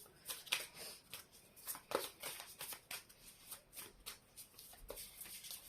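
Quiet, repeated riffling of playing cards being shuffled, soft papery flicks in a steady, unhurried rhythm, close by with no talking.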